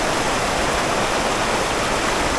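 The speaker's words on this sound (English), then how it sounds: "One of the creek scenes on my way to the waterfall." Steady rushing flow of creek water, close and continuous, a broad even hiss with no voices.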